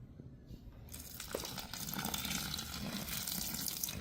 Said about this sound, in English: So now we're going to take the water. We're going to pour in that.